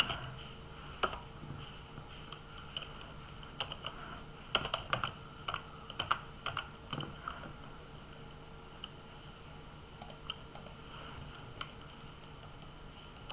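Python code being typed on a computer keyboard: soft, irregular key clicks in quick clusters with short pauses, fairly quiet against a steady background hum, no voices.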